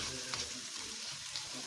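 Pork sauté in tomato sauce simmers in a pan with a close, steady sizzling bubble and a few soft pops, no voices present.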